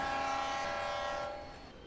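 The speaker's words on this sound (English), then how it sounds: "They each blew their horns in greeting." Freight locomotives in a private company's paint scheme blow their horns in greeting as a passenger train passes, a loud, sustained, chord-like blast that holds steady and then eases off slightly near the end, with no voices.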